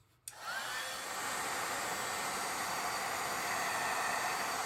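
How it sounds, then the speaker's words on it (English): A heat gun switches on with a soft click, then blows a steady, loud whooshing rush of hot air to melt embossing powder on vellum, the hiss holding even throughout. "I'm going to make sure my heat gun is nice and hot before I bring it to my vellum"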